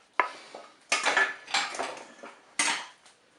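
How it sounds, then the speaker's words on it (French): An oiled cake mould for a cherry cake knocks and clatters into the metal pot of a Cookeo multicooker in a few close, sharp hits, with no talk. "Je dépose le moule dans la cuve du Cookéo"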